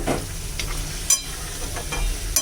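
Fried potatoes go into a sizzling red chicken curry, giving a continuous frying hiss broken by sharp clinks and scrapes of stirring at irregular intervals.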